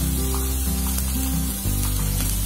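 Sprouted moth beans sautéed in a pan give a continuous, close sizzle with a steady hiss and faint stirring scrapes, heard alone without talk.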